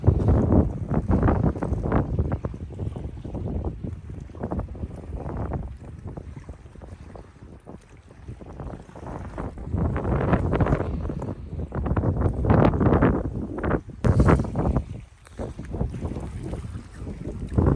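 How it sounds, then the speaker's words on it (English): Heavy gusts of wind batter the microphone on the water at Martinez, California during a striped bass fishing outing at low tide, loud irregular roaring bursts that swell and fade without pause. "Super windy out here"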